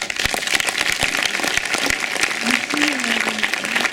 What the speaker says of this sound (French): je crois qu'on peut t'applaudir